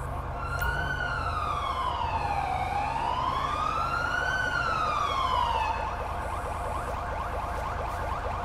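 A police siren in GTA V wails loudly in slow rising and falling sweeps, then switches to a rapid yelp, all over steady engine and road noise during a code 3 emergency response.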